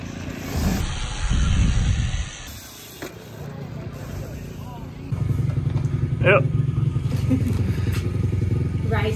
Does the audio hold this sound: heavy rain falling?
no